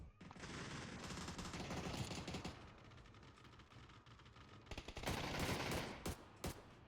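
Dense gunfire in a shooter video game: rapid automatic bursts and overlapping shots rattle almost continuously, swelling louder near the end with a few final isolated cracks.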